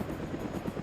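A UH-1H helicopter in a video game thrums steadily as it is shot down, with a continuous low rotor chop and no talk.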